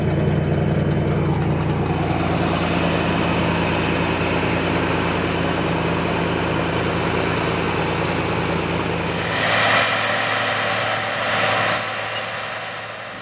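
A John Deere 8520T tractor pulls a 25-foot McFarlane Reel Disk across moist, crumbly field soil. Its engine drones loud and steady nearby, and the sound shifts and thins slightly near the end.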